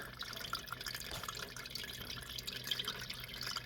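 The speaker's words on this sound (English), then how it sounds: "It kind of trickles against the cup" Water in an indoor hydroponics system trickles and splashes steadily against the side of a cup, a continuous close liquid patter without speech.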